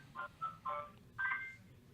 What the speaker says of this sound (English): I'm gonna turn my volume or my ringtone off.